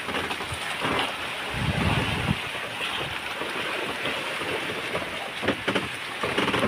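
Rain during an approaching storm at sea near a fishing spot, a steady broadband wash that swells in heavier bursts, loud and close, with a strong low rumble around the second mark.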